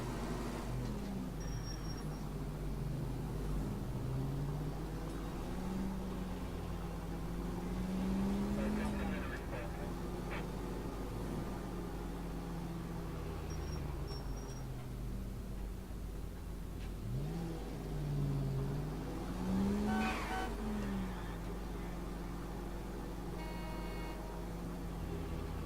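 A car drives in L.A. Noire, its engine rising and falling in pitch through repeated revs and gear changes over a steady, loud mechanical drone, with faint tire noise and background game ambience throughout.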